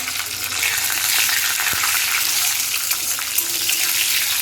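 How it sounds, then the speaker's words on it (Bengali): Whole spices for tempering, including panch phoron, cumin, bay leaf and dried red chillies, fry in hot oil with a constant bright sizzling hiss and an occasional faint click, close up with no voices. "এবার ফোড়নটা এখানে আমি ভালোভাবে ভেজে নেব।"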